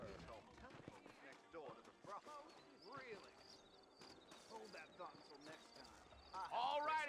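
Horse hooves clip-clop at a steady, unhurried walking pace in the video game Red Dead Redemption. The hoofbeats sit fairly quiet beneath spoken character dialogue and background music.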